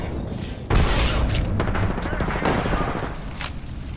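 A frag grenade blast in Apex Legends booms loudly near the start, followed by a dense spread of rapid gunfire and smaller reports over a continuous battle din.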